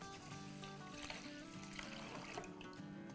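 Water poured into a cooking pot of washed rice for chicken biryani, a continuous splashing trickle with faint clinks, steady and close.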